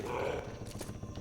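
The Tank zombie in the Xbox game Left 4 Dead lets out a deep, guttural roar, loud and rumbling amid game noise, swelling then breaking into harsher bursts.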